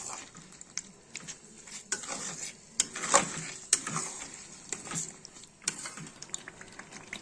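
Prawn pickle being stirred and turned in a pan, with soft irregular scraping and patter over a low sizzle, moderately close and without talk.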